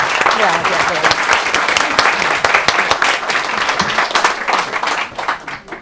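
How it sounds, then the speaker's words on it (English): Loud, sustained applause from an audience at a book presentation, dense clapping throughout that thins slightly near the end. "please give him a big applause so that we can start this meeting"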